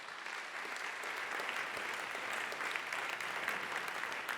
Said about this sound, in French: on peut vous applaudir pour vous accompagner